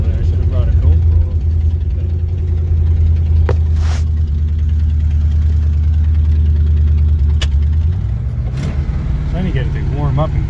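A 1979 Camaro Z28 V8, cold after sitting unused for years, idles as it warms up, a loud steady low rumble that shifts pitch slightly near the end, with a few clicks and knocks over it.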